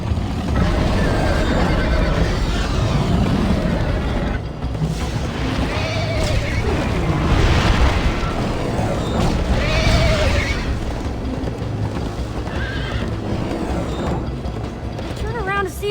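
Horse neighs and whinnies in Minecraft: Story Mode, loud and close over a dense wash of game music, hoofbeats and effects, with voices talking throughout.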